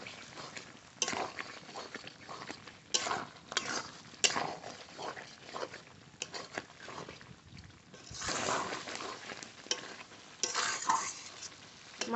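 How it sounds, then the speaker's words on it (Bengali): Washed, cut chicken is sautéed with spices in a pan, heard as irregular scraping stirs and utensil clatter over a soft sizzle, close and fairly quiet, with no talk. "এবার একসঙ্গে কষিয়ে নেব।"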